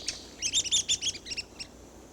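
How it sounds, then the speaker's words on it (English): Red-cockaded woodpecker in a pine forest giving a rapid series of short, sharp, high chirping calls, about a dozen notes in quick bursts, moderately close and alone with no talking. "a pine forest in search of the red-cockaded woodpecker"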